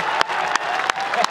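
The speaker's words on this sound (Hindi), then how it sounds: "तालियां कम है" Audience applause at a Hindi poetry recital (kavi sammelan): a brief, moderately loud burst of crowd clapping with a few sharper individual claps standing out.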